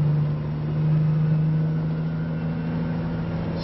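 Engine of a 1999 Peterbilt 379EXHD truck drones steadily while driving at highway speed, a smooth low hum with a faint rising whine and constant road noise, with no voices over it.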